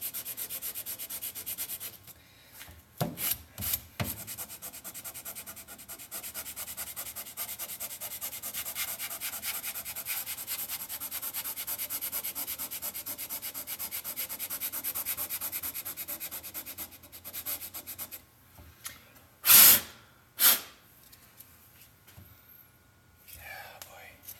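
Coarse sandpaper rubs over a wooden book box in steady close-up scraping strokes, with a few louder bursts near the end and soft speech mixed in.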